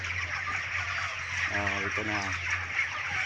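Broiler chickens at 28 days old, at harvest time on a poultry farm in Calinan District, Davao, give a short burst of clucking amid a low steady hum while someone speaks over them.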